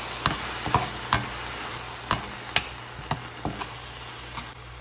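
A spoon stirs tomato paste frying in a pan for rajma, with a steady sizzle and a run of light rhythmic clicks and scrapes from the spoon, heard close with no voices.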